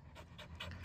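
A small dog pants close by in quick, soft, breathy puffs, three or four in under a second, faint and with no one talking.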